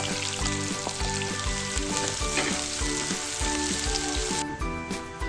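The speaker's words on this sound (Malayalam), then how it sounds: "ഇനി നമുക്ക് സവാള മരിച്ചെടുക്കാം" Onions frying in oil in a pan while chicken biryani is cooked, a steady loud sizzle with crackling and occasional stirring, alone without talk.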